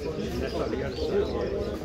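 Pigeons coo softly in a low, murmuring run at a bird toss on New Year's Eve, partly masked by steady background noise and nearby movement.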